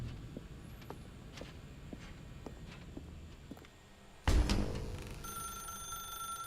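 A telephone in The Stanley Parable rings with a sharp electronic bell tone after a stretch of quiet footsteps in a room, the ring bursting in loudly and then sustaining, no speech.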